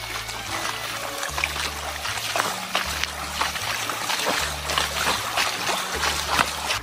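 Steady rushing of a waterfall stream at Fokir Murong waterfall in Kaptai, continuous and fairly close, with a low hum running underneath.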